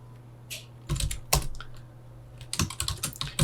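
Keys on a computer keyboard clatter in short, uneven bursts of close, crisp taps with pauses between, during Android Kotlin coding, against a quiet background hum.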